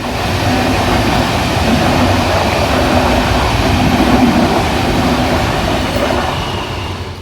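A steady, loud rumble of a train passing close by at a rail crossing, continuous roar and rattle with no pauses, holding level throughout.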